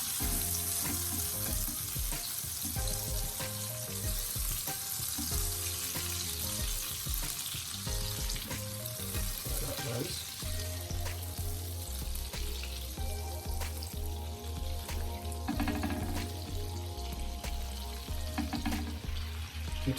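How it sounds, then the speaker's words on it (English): Butter, one cup, melts in a preheated pan while being stirred, giving a steady close sizzle with scraping stir sounds throughout, no voices. "just want to keep stirring that around until that butter melts out"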